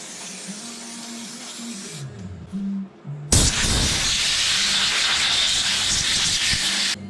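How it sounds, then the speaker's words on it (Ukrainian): Compressed air blasts into a BMW R1200GS Adventure front brake caliper. After a few seconds of quieter background sound, a loud, steady hiss begins abruptly and holds to the end with a few brief dips. "в супорті ми наведемо порядок завдяки омивача та щіточки. а також стислого повітря."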